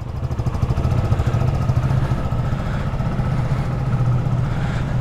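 A Kuba Superlight 2 motorcycle engine runs at a steady, close, rumbling idle with a rapid even pulse, no voices.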